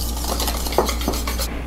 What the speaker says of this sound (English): I'm going to grab my whisk and we'll mix these all together